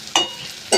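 Bitter gourd and onion sizzle in a frying pan as they are stirred, with a steady soft hiss and two brief scraping strokes close by.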